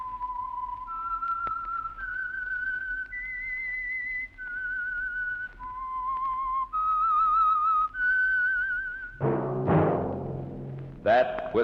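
A whistled theme melody, the signal tune of the Signal Oil radio mystery program The Whistler, rises and falls in clear sustained notes before orchestral music swells in at the end.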